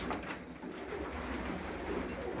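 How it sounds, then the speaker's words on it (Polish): Sport pigeons of the Budapest breed coo steadily in a loft, a continuous close, low murmur from several birds overlapping throughout. "Kilka sztuki z kociatych, sportowych gołębi"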